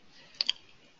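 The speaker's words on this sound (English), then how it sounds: "Double click here." A quick computer mouse double click, two crisp close taps in rapid succession against a quiet background.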